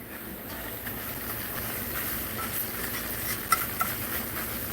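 Flour browning in a pan for dried beef gravy, giving a continuous close hiss and sizzle with faint scraping of stirring and a couple of small clicks, steady and without talk.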